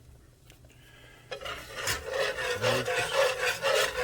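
A whisk rasps steadily through flour and bacon grease in a pot over medium-high heat, making a close, repeated scraping swish after a quiet start, with a brief spoken phrase near the beginning.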